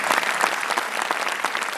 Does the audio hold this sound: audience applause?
yes